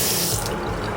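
Water runs steadily and loudly from a bathroom sink tap in a hotel room, a close, continuous hiss and splash under strong pressure that lasts about a second.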